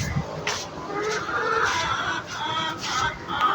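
Chickens cluck and squawk loudly and close by in an indoor coop, a busy overlapping chorus that continues throughout with no talk.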